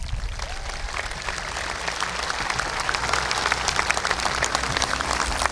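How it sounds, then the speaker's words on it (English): A large high school graduation audience applauds the students, a dense, steady wash of clapping from many hands that swells slightly louder in the second half and holds without letup. "Please give these students a round of applause."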